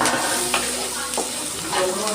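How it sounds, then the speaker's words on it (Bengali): Garlic added to chopped onion frying in oil in a pan for a puti fish curry, giving a steady close sizzle with brief stirring scrapes, no talking. "এবার দিচ্ছি একটু রসুন।"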